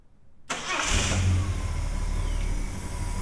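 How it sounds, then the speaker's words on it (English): A warm start of an XW Long Roof car's engine after a service and tune: a brief cranking catch, then the engine fires and settles into a steady, close, even idle with a low throbbing hum. "So it's a warm start, the start's nice, idle's good"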